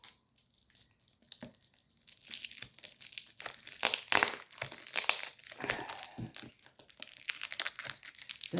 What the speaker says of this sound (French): si je peux retirer le collant